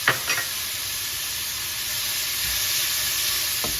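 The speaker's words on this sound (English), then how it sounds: "Let's add in our garlic." Garlic frying in a hot pan for pork fried rice, an even steady sizzle opening with a couple of quick knocks of the utensil, close and unbroken with no talking.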